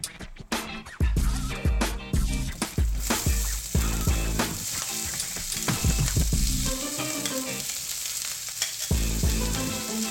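Onions fry in a hot pan for an okra masala curry, a steady close sizzle broken by frequent scraping stirs and clatter, with no talking.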